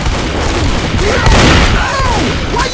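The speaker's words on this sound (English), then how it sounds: "Why are you shooting me?" Gunfire in the video game Absolute Zero, set in icy caverns: a dense, continuous fusillade of shots and booms that stays loud throughout, with a faint voice underneath.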